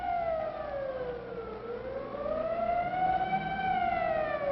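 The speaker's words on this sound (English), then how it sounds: "as directed by the mayor, the siren sounds once more" A civil defense siren wails alone in a 1955 town drill, its tone sliding down, then rising again in a long steady howl with strong harmonics, loud and continuous.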